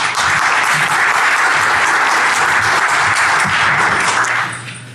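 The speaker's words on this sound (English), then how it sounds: "So let's give a round of applause for Takahiro." A conference audience at a Black Hat security talk applauds a speaker being introduced, producing a loud, dense burst of clapping that holds steady for several seconds and then tapers off near the end.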